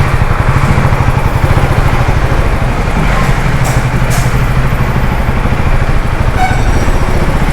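A KTM Duke 390 motorcycle engine runs steadily while being ridden, a loud continuous buzzing drone with a throbbing low pulse, close and constant throughout.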